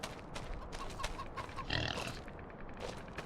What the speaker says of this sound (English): why did you just hear a pig squeal if I don't have pigs on my farm?